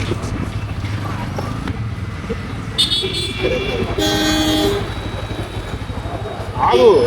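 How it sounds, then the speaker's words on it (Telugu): A car horn blares briefly amid busy traffic rumble, with another short honk nearby and voices talking underneath. "హార్న్ కొడుతున్నాం."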